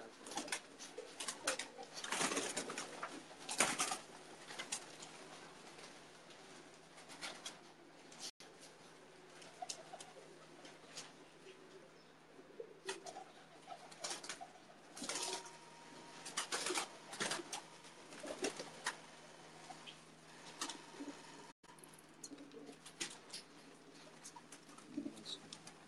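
Pigeons of many breeds coo on a rooftop, their soft repeated calls rising and falling in scattered bursts at moderate distance, with faint background noise between them.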